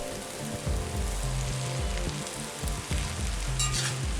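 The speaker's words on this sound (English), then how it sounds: "we mix in the chopped green onions and fry everything until the green onions are" Lo mein noodles and chopped green onions fry in a cast iron wok, a steady crackling sizzle with rhythmic scraping and tossing thumps, close and continuous without talk.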